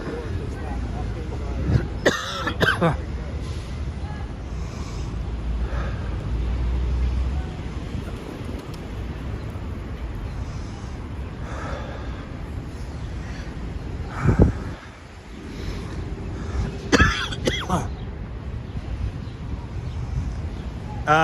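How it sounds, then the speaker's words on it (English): Several harsh coughs and throat clearing close by in Central Park, New York City, in short bursts spread through the clip, with a steady background rumble and a voice talking. "Sorry, I'm coughing."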